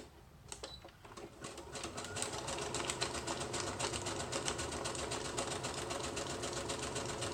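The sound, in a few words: sewing machine stitching a wrap-around pocket in a junk journal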